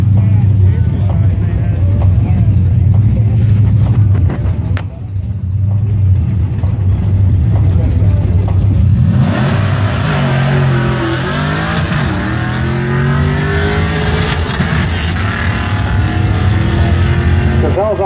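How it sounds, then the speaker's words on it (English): A Ford Mustang launches down a drag strip, its engine roaring loud and steady, then dipping briefly as a gear is missed before pulling hard again, with an announcer talking over it. "in lane number one, we have Michael Crozell driving his Mustang"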